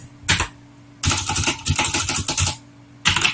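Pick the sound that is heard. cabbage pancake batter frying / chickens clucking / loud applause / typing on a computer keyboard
typing on a computer keyboard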